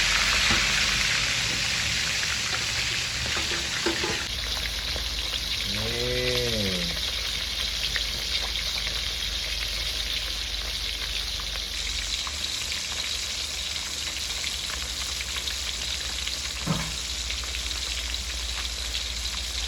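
White fish frying in a pan in a home kitchen, with a dense, steady sizzle and crackle throughout and a few faint clinks and stirring sounds along the way.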